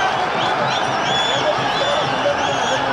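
Stadium crowd at a Pakistan versus Sri Lanka cricket match in Sharjah, a dense, continuous roar of many voices with no single call standing out.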